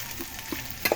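Seasonings for sinigang sa miso sizzle and fry in hot oil in a pan, a close steady crackle with a few louder spatters and stirring scrapes near the end.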